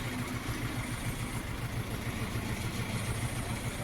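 A Jinma 404 tractor engine runs steadily at a tractor yard during testing, a continuous even idle with a faint low clatter, fairly close and alone without talk.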